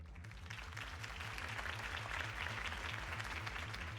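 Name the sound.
crowd applause in a video game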